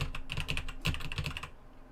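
Rapid keystrokes on a computer keyboard while typing text in the Emacs editor, a quick burst of clicky taps that pauses briefly, resumes, then trails off into quiet near the end.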